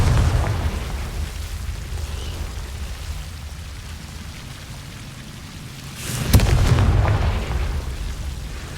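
Confringo and Incendio fire spells crackle and burst in Hogwarts Legacy, a rumbling hiss of flames with one sharp explosive blast near the end.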